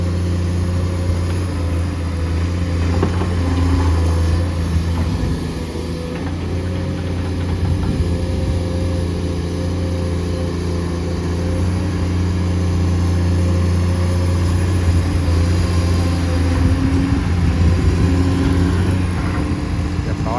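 A new Komatsu PC210-10M0 excavator with a large 1.2-cubic-metre bucket runs its diesel engine at a steady low, humming drone close by for about twenty seconds, with occasional louder working surges.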